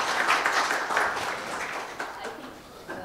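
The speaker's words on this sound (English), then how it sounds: "So we give them a round of applause." Audience applause at an HR summit, a moderate burst of clapping that gradually thins out, with faint voices beneath.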